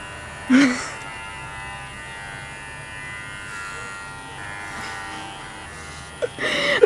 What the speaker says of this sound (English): I'm just gonna shave it